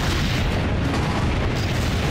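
Cannon fire in Assassin's Creed: Brotherhood, a dense, continuous roar of booming blasts with no clear gaps between shots, loud and close, without any speech.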